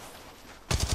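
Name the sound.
gunfire in Apex Legends Mobile video game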